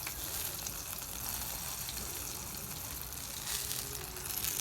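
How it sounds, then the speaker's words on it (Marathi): Green chillies, and then garlic, frying in hot oil under a flatbread cover in a village kitchen, giving a steady, close sizzle that crackles without break. "तेल टाकून घेतलंय आपण मध्ये मिरचीमध्ये"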